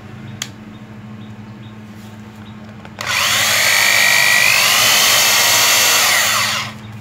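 A Japanese second-hand electric drill set to reverse spins up sharply and runs with a steady, loud, close whine for almost four seconds before cutting off, after a faint click.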